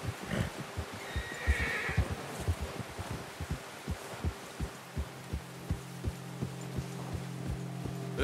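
Horses step through snow in the Red Dead Redemption 2 video game, a steady series of soft, crunching hoofbeats close by with a brief whinny early on, over low ambient hum.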